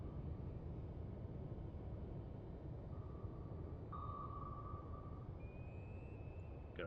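Active torpedo sonar in a submarine video game: faint high electronic pings and a short rising tone over a constant low rumbling hull and water noise, distant and quiet.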